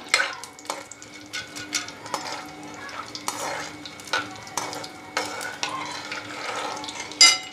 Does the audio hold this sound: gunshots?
no